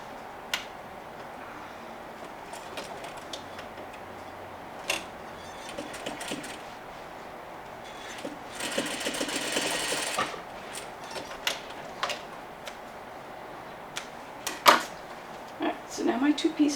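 A sewing machine stitches pieces of a Parsons chair slipcover together along a welt cord seam, giving quiet ticking and clicking with a brief louder whirring burst midway, close up, while someone talks.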